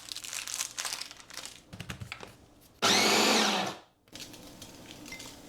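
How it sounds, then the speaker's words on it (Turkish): Biscuits, Biscoff among them, ground in a food processor for a cheesecake base, with a loud steady whirring burst lasting about a second after some handling rustles and clinks, then a quieter background. "Şimdi burada ilk olarak yapmamız gereken şey bisküvileri güzelce robottan geçirmek"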